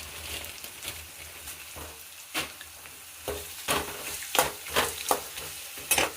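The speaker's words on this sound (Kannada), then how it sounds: "ಈಗ ಕರಿಬೇವಿನ ಸೊಪ್ಪು ಹಾಕ್ತಾಯಿದ್ದೀನಿ." Curry leaves hit hot oil in a pan during cooking of raw mango chitranna, a crackling sizzle with repeated sharp pops and spatters as a spoon stirs, close and uneven, with no talk.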